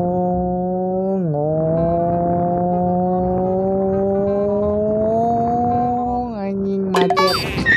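An engine note from a CBR150R motorcycle tuned to sound like a four-cylinder ZX-25R holds a loud, steady tone that dips briefly, rises slowly, then drops before a burst of crackling near the end.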